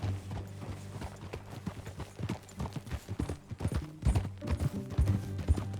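Horse hooves clip-clop in a quick, uneven gait on hard ground in Red Dead Redemption 2, moderately loud and close, with no talking.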